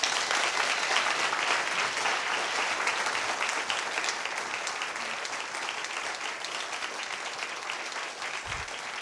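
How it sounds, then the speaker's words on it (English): Sustained, dense audience applause at a U.S. Senate debate at Cal State LA as the candidates come on stage, a broad wash of clapping holding steady throughout. "Let's bring them out right now to your applause, Attorney General Kamala Harris and Congress"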